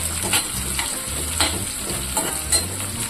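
Chillies are sautéed in a pan with a steady frying hiss and regular scraping stirs about every half second, close and even in volume, with no voice.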